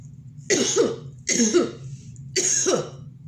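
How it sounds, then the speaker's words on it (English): A person coughing deliberately to show how germs spread, three separate loud coughs close to the microphone with short silent gaps between them. "And this time, let's use a cough."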